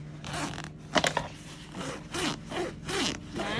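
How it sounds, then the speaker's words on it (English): The front zipper of a Peak Design Everyday Sling 3L bag is pulled in several quick rasping strokes, each a short smooth zip, close up with brief gaps between pulls. "Let's try the zipper."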